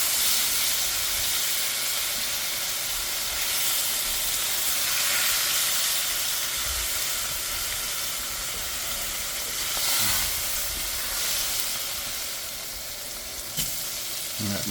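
Ribeye steak searing in a hot pan gives a steady, loud, broadband sizzle and spatter that continues throughout with slight swells, close and alone with no talking.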